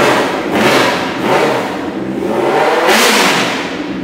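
Kawasaki Z1000 motorcycle with an aftermarket exhaust revved hard at standstill, two loud throttle blips rising and falling in a throaty roar, close by with no talking.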